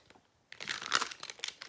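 Paper being handled and cut while making a tulip-themed gift card holder: close, quiet rustling and crinkling in irregular bursts after a short pause.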